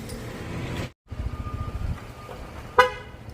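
A single short, bright honk from the horn of a Ford Transit camper van sounds near the end, after a stretch of low vehicle rumble and background noise.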